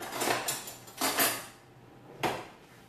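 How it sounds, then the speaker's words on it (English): Metal kitchen utensils and a spatula clatter in a home kitchen while making lasagna, three separate sharp rattling bursts spaced about a second apart with quiet gaps between. "I'll go over here and get another spatula"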